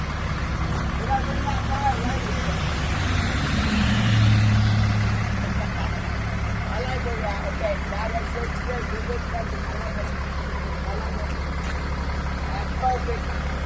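A farm truck's engine running steadily at idle, a low continuous rumble close by that holds level throughout, with a faint rise in the middle.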